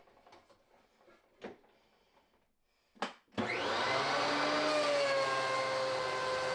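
A thickness planer starts up and planes a 2x4 toward one inch. A few quiet knocks and bumps come before it, then a loud, steady roaring whine with a sustained pitched tone runs to the end.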